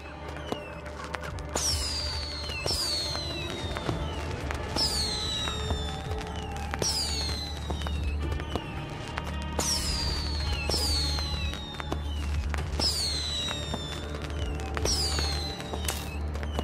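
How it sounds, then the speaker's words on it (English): Fireworks burst repeatedly in the mystery adventure game Adam Wolfe, Episode 4 Zero Hour. Whistling rockets sweep down into crackling pops in a steady rhythm, loud and continuous with no talking. "Fireworks!"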